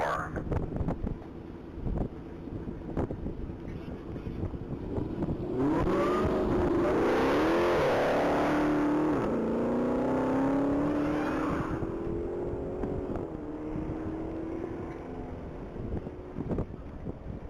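A Dodge Challenger races past at a standing-mile top-speed event, its engine rising to a loud, sustained roar mid-run with strong wind buffeting the microphone, then fading off as it exits the mile.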